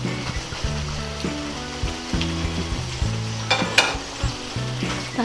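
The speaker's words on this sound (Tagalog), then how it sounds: "Ngayon po ay ilalagay na po natin itong ating pork giniling." Ground pork frying in a pan for pork giniling, a steady loud sizzle with scraping and stirring clatters throughout, no voices.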